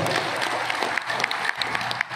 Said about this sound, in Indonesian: Tepuk tangan sudah semua